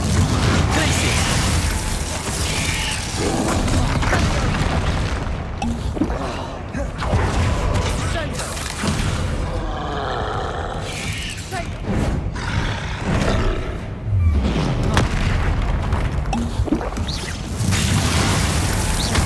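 Incendio fire spells cast during combat in Hogwarts Legacy: loud, repeated roaring bursts and crackling blasts over dense game noise, with voices calling out between them.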